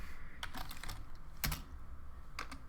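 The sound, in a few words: typing on a computer keyboard while writing Python code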